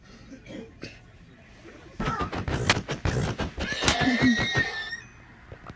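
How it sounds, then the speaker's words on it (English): In the video game Five Nights at idc's, a horse whinnies in a drawn-out, wavering neigh, moderately loud, while a person talks over and around it. "Look at the horse back there"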